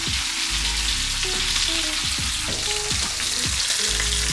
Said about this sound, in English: I'll try and get them crisscross char grills on my steak